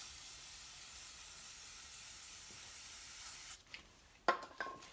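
Brake cleaner hisses steadily from an aerosol can onto a sealing surface for about three and a half seconds during an electrical repair on a cheap PT, followed by a few faint clicks and handling knocks.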